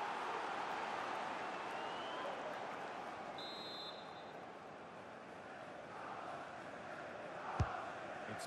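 Stadium crowd roar from a Premier League match between Manchester City and Tottenham in the EA FC 24 football video game, a steady broad wash of distant cheering and chanting that rises slightly near the end and has one brief sharp peak.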